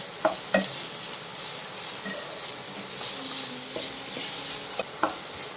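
Onions sautéing with salt in a pan while being stirred, a steady hiss and sizzle with a few sharp spoon knocks at the start and end and soft scraping in between.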